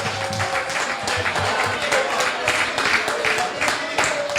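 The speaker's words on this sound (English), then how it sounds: "A round of applause for Skinny." Applause for a birthday at a public gathering, a steady wash of many hands clapping at moderate loudness with faint crowd murmur, continuing without a break.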